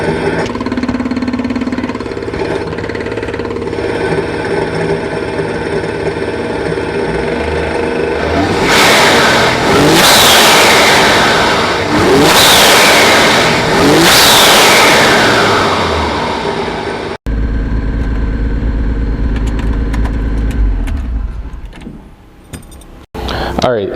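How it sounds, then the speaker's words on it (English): Turbocharged RB25 engine fitted to a Datsun 240Z, heard close to the turbo intake as it idles and rises through three quick revs with a whooshing intake note, then drops back, with brief handling noises near the end. "I'm gonna put it next to the turbo so you guys could hear the turbo sounds."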